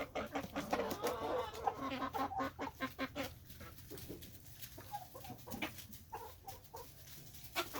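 Rhode Island Red hens clucking as they peck at pumpkin, a flock of soft, irregular clucks and low chatter close by with scattered pecking taps, fairly quiet overall.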